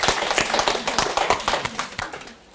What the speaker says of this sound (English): Spontaneous round of applause from the ladies in the house.